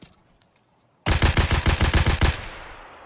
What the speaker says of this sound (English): Just mag dumping my SKS a sec.